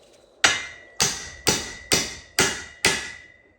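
Six sharp hammer taps on a metal part of a Ford Edsel under repair, evenly spaced about half a second apart, close and ringing briefly with no talk.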